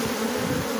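A dense, steady buzz from an agitated swarm of Apis honey bees shaken during a hive capture and transfer, loud and close and continuous throughout with no voices.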